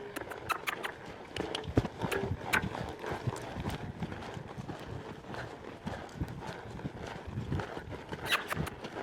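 A barrel-racing horse being worked in a training arena gallops, its hooves beating a steady, fairly loud clip-clop rhythm throughout, with brief faint voice sounds in the background.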